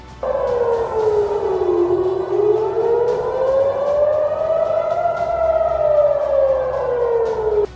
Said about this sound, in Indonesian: auman sirine keamanan terdengar kencang